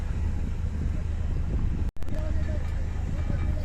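A passenger trawler travels a river in the Sundarbans, heading from Namkhana toward Benuban, with a steady low engine drone and wind rumble that drop out for a moment midway.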